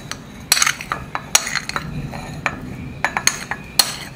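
A boiled egg is grated for a tiffin dish, giving irregular light scraping strokes with small metallic clinks and taps, close and moderately quiet, with no talking.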